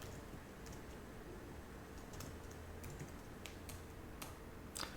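Quiet typing on a computer keyboard, scattered soft key clicks over a steady background hiss, faint and unaccompanied by talk.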